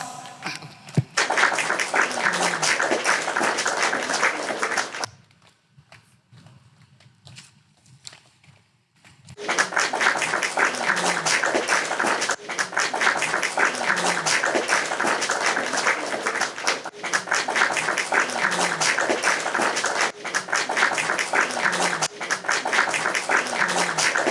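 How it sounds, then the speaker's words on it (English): A large audience of conference delegates claps in loud, sustained applause, dropping briefly to quiet scattered sounds around the middle before the clapping surges back and continues strongly to the end. "I request the delegate to give a louder applause."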